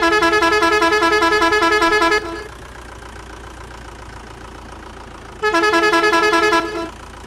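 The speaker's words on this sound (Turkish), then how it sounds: "Dur şunu bir kornaya çalalım." A vehicle horn in the farming video game Farming Simulator 22 honks twice in long, loud, steady blasts, with a low idling engine rumbling between them and no talk.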